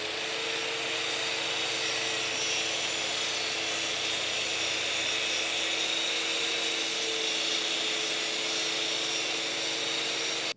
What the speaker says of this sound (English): that Festool dust extractor did collect the dust on that track saw a little bit better